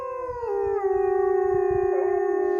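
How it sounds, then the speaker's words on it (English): Wolves howl in a sustained, loud, close chorus from a forest in Germany's Lausitz region during mating season, with several long, wavering tones layered together and no talking. "the wolf packs start to howl from the next forest"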